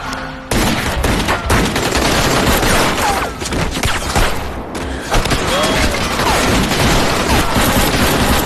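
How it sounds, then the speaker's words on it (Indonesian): Dense, continuous gunfire with overlapping rapid bursts and booms, loud and close throughout, like a chaotic firefight with no pauses. "Tembak-tembakan tak bisa dihindarkan."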